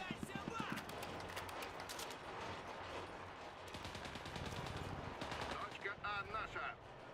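Submachine gun fire from Mixers: Legends of Terrestria comes in quick rattling bursts of sharp repeated shots under a talking voice. Several separate volleys start and stop through the stretch.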